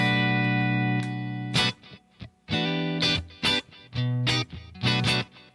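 Clean electric guitar through a Spark amp: a few sustained chords and picked notes ring out in separate phrases with short gaps, carrying a touch of delay and reverb, loud and close with no talking.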